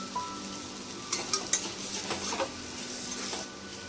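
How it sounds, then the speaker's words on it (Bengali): Spice masala and potatoes are stir-fried in a pan for an egg curry. Soft sizzling runs under a few sharp scrapes and clinks of a spatula against the pan, close and fairly quiet. "ভালোভাবে মশলাটা আলুর সঙ্গে কষিয়ে নিয়েছি"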